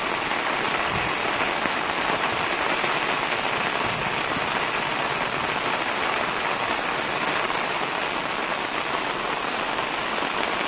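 Heavy rain pours steadily over flooded land where coffee plantations have been swamped, a dense, unbroken hiss of water close by with no voices.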